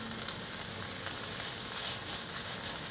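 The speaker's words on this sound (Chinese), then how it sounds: "赶快翻炒，把黄豆和所有食材炒均匀。" Soybeans being stir-fried with cabbage and other vegan ingredients in a wok, a continuous close crackling sizzle with soft scraping, and no voices.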